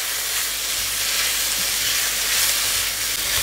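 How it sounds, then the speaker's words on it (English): Chicken stir-frying in a pan over high heat, a steady close sizzle with broadband hiss that runs unbroken throughout, no voices over it. "I'm going to be stir frying it until it's properly cooked."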